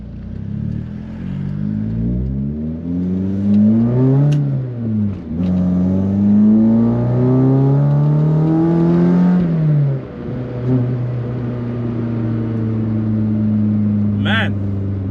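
A VW Golf Mk1 with a 16-valve 2-litre engine drives, revving up through the gears with rising and falling engine pitch and a steady rumble close by, with people talking over it.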